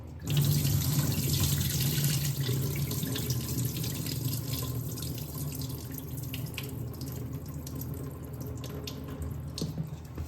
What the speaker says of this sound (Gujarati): હવે આપણે બીજી વાર એને ધોઈ લઈશું